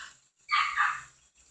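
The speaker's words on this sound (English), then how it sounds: "He won't stop barking." A dog barks in a short, sharp burst of several quick yaps, fairly close and loud, with brief quiet before and after.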